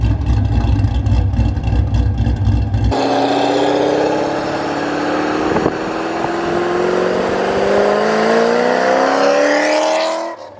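A loud, close boosted Nissan 350Z engine rumbles, then revs hard, its pitch climbing steadily for several seconds before cutting off.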